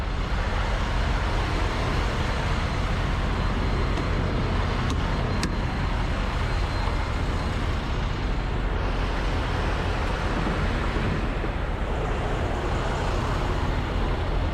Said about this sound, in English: Sorry if his truck's kind of loud.